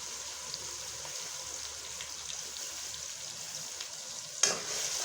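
Tomatoes, onions, green chilli, garlic and ginger paste fry in a pan for a kadhi pakora curry, giving a steady soft sizzle throughout with one sharper crackle near the end and no voices.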